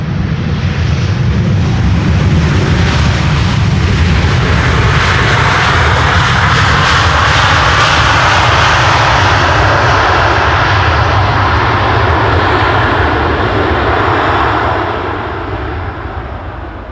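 An airliner lands on the Polderbaan runway at Schiphol, a loud, close, continuous engine roar that holds steady and then fades over the last couple of seconds, with no talk.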